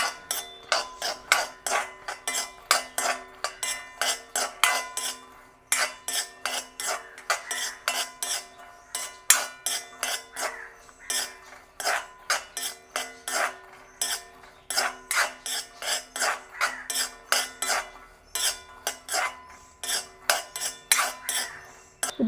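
Pistachios and cashews tossed and stirred while dry-roasting in a pan, rattling and scraping in quick repeated bursts of clatter against the metal, close and steady with no talk.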